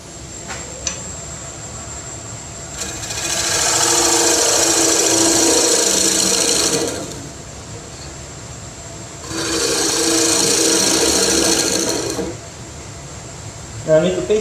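Turning tool making face cuts on a wood lathe, two sustained bursts of hissing, scraping cutting noise over a steady motor hum, separated by a quieter stretch of lathe running alone.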